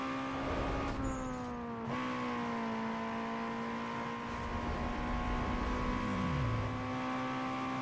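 A car engine revving hard in Need For Speed Underground 2, with a sustained high tonal whine that drops at a gear change and then holds steady under acceleration. It is loud and close throughout, with no talking.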